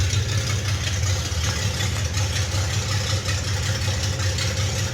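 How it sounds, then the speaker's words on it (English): A 1977 Datsun 280Z with an L30 engine idles after a cold start, giving a steady, loud, close mechanical drone with a deep low rumble and no voices. "This is a cold start."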